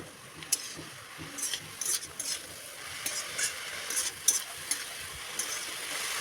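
Bottle gourd greens stirred in a frying pan with garlic, salt and turmeric, a soft steady sizzle broken by light scraping strokes of a spatula at an irregular pace, close and fairly quiet.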